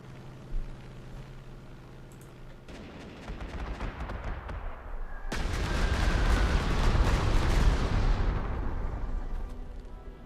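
Artillery fire in the WWII strategy game Panzer Corps 2 opens with a single muffled thump, then builds into a loud, sustained volley of booming blasts and rolling explosions that trails off slowly.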